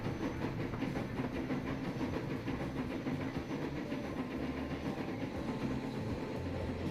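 Train running on rails in the video game Transport Fever 2, a steady rumbling roll with faint clatter and hiss, continuous and moderately loud throughout with no talk.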